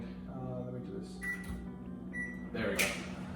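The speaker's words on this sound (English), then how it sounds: "New microwave, getting used to it." A steady low microwave hum runs throughout while brown rice cooks, with a couple of short beeps and faint clatter near the end.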